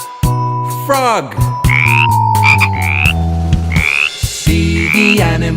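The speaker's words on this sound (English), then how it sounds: "It's a frog." Frog croaking in a children's animal-sounds nursery rhyme, a series of loud, close, sweeping croaks set against a bright musical backing.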